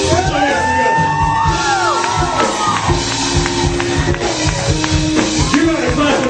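Festival audience at a poetry event yelling, whooping and cheering loudly as a poet is called up, a dense sustained roar of many voices with shouts rising above it throughout.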